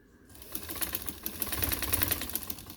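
A domestic sewing machine stitches lace onto the corner of a dupatta, its rapid even clatter of needle strokes rising from quiet and running close and steady for a few seconds.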